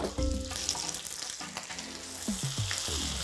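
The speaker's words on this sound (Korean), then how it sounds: "한 면이 다 익기 전에 돌려주셔야 돼요. 베이컨 같은 거 구울 때는." Bacon sizzles and spits in a pan with two tablespoons of ordinary cooking oil, a loud close crackle throughout, with a few clinks and scrapes as the strips are moved.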